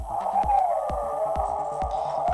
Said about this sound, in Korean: 지지직하는 소리가 좀 크게 들리는데요